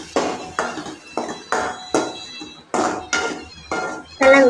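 A spoon scrapes and clinks steadily against a pan while goat brain fry cooks, about ten evenly spaced stirring strokes close by with no talking.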